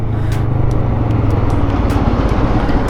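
Busy Saturday road traffic heard from a touring motorcycle, a continuous loud rumble of engines and passing vehicles with wind noise and a few sharper transient swishes, no talk.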